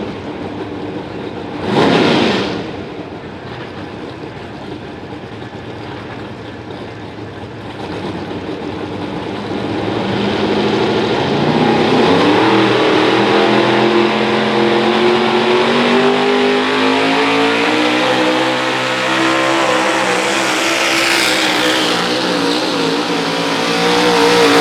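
Engine of a 1987 Chevy pulling truck at a truck pull, a loud sustained roar that builds and climbs steadily in pitch as it revs under heavy load for over twenty seconds, with a brief burst near the start.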